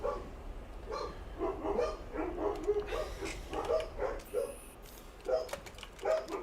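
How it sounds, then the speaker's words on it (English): Puppies bark, yip and whimper in a steady agitated run of overlapping high calls, moderately close and heard alone without talk. "Yeah, those are some puppies. Those puppies sound upsetty spaghetti."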